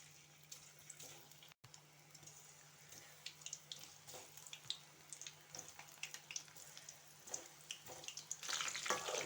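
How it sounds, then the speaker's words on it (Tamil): Soya chunks frying a few at a time in hot oil for a Soya 65 dish: a faint, steady crackle of sizzling with scattered small pops, quiet and close, rising a little louder near the end, with no talking. "இப்போ நம்ம கொஞ்சம் கொஞ்சமாக எண்ணெயில் போட்டு பொரிச்சு எடுத்துக்கலாம்"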